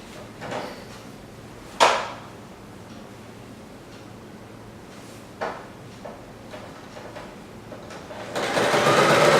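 A sewing machine stitching a pleat on a patchwork cushion: quiet handling clicks and thumps first, then the motor whirs up loud and steady near the end.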